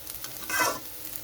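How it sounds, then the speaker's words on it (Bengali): A short burst of hissing sizzle with a stirring scrape as rice is fried in a hot pan, swelling briefly then settling back to a faint crackle. "পোলাও বানাতে গেলে চালটা ঠিকঠাক করে ভাজতে হবে"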